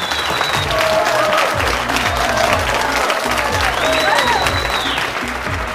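An audience applauds at a stage event, a loud, dense round of clapping with some crowd noise and a few whistles over it.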